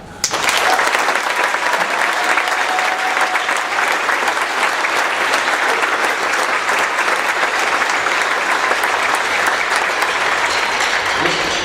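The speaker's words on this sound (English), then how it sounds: "First of all, I'd like to have a round of applause for all the veterans in the house." An audience at a senior class event claps for veterans in a loud, sustained ovation that begins abruptly and holds at full strength, a dense wash of hand claps with a faint whistle in the middle.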